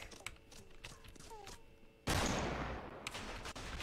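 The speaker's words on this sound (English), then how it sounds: "Who's shooting at you?" Gunfire in Fortnite Battle Royale: scattered faint shots at first, then a sudden loud, dense burst of rapid fire that roars on to the end.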